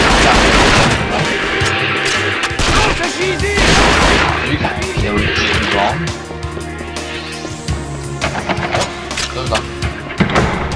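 Gunfire rattles through a PS4 James Bond game, with dense bursts of rapid shots and loud booms close by, continuing in clustered volleys with scattered single shots toward the end.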